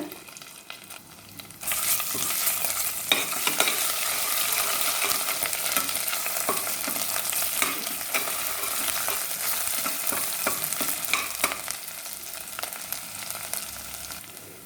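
Ginger-garlic paste and whole spices frying in oil in a pressure cooker, a loud steady sizzle that starts abruptly after a quiet second and holds through, with faint stirring scrapes.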